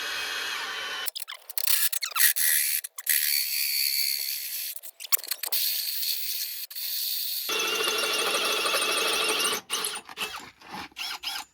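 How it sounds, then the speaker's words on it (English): Bursts of harsh, high grinding from a hole saw biting into a thick 3/8-inch steel plate bumper, starting and stopping several times, with clicks and clatter between runs. "a hole saw bit that I don't believe will drill through this thick bumper"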